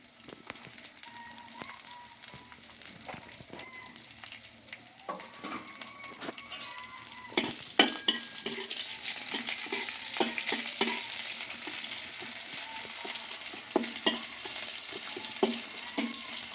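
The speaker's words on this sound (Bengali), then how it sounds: "পেঁয়াজ আর রসুনগুলো লাল লাল করে ভাজা হয়ে গেছে" Chopped onion and garlic fry in oil, a steady close crackling sizzle running throughout with frequent scraping stir clicks and small pops, no talking.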